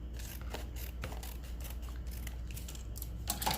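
Scissors snip through a craft piece in a quick run of close, crisp cuts, repeated rhythmically with no talking over them.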